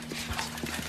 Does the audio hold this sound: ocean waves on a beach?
no